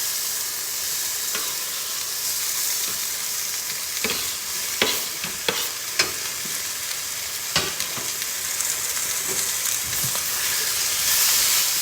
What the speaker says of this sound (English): I'm going to throw these. Oh, you hear that? The potatoes in.